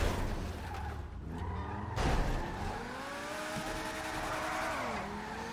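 A video game car edging through a tight space, its engine revving and whining in shifting pitches while the tires squeal briefly, with no voices.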